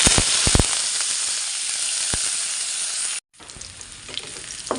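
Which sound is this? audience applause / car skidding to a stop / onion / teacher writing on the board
onion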